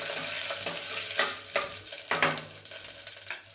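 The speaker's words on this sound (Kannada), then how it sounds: "ಚೆನ್ನಾಗಿ ಫ್ರೈ ಮಾಡ್ಕೊತಾ ಇದ್ದೀನಿ." Fennel seeds and cumin, with cinnamon and cloves, frying in oil for chicken biryani; close, rhythmic spoon scrapes over a continuous sizzle, several strokes in quick succession.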